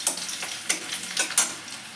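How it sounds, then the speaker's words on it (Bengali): Chopped ginger and garlic sizzle in hot oil in a pan, a close, bright hiss broken by a few sharp stirring strokes about every half second. "এবার আদা কুচি আর রসুন কুচি দিয়ে একটু ভেজে নিয়ে"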